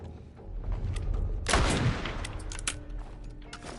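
Gunfire in The Last of Us Part I: a dense burst of loud, close shots peaking mid-clip, with scattered reports before and after over a rumbling game background.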